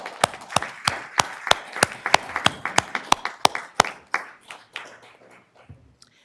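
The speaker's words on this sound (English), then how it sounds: "we'll give you a round of applause" Applause at a Sacramento school district board meeting starts as loud, evenly spaced claps from a few people close by, then thins into scattered quieter clapping that fades out.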